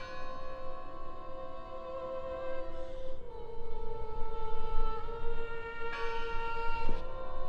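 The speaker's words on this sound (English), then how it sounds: "Who's ringing the bell?" Bell ringing in the horror video game Draugen, a sustained metallic tone with lingering overtones and a couple of fresh strikes, set against a steady background hum.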